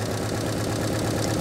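An old motor, restarted after ten years without running, idles steadily with a continuous low hum and slight knock, fairly smooth and close by, with no talk.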